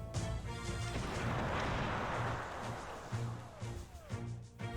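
Cannon fire from artillery in the real-time strategy game Cossacks, a faint, distant crash of shots swelling into a rumbling roar over a steady looping music bed, with a few scattered pops afterward.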